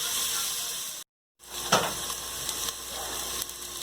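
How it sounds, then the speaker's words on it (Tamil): Onions sautéing in a pressure cooker for a quick biryani: a steady, close sizzle and hiss with occasional stirring scrapes, broken by a short moment of silence early on. "இப்போ அதை நல்லா வதக்கி விட்டுக்கலாம்."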